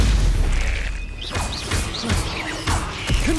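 Spellcasting in Hogwarts Legacy, the Stupefy spell, heard as a heavy booming blast and crash with whooshing and zapping effects over a few seconds of combat.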